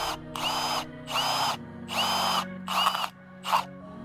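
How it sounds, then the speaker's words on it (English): A 20mm spade bit bores a centre hole with a power drill, five loud whining bursts of a second or less each, separated by short pauses and trailing off shorter toward the end. "Then I get my 20mm spade bit and I drill the centre hole."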